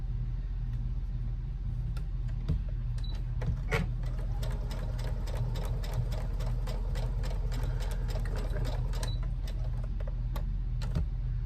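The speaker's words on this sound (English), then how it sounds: "we're gonna sew 1/8 of an inch away from the bottom of our casing." A sewing machine stitches steadily nearby, its motor humming under a fast run of rhythmic mechanical ticks.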